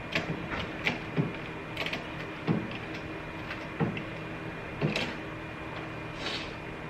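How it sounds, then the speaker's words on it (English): A hand ratchet works a battery bolt on a McLaren 650S Spider, giving short bursts of close, quiet mechanical clicking separated by pauses. "you're probably gonna have to go all the way with the ratchet"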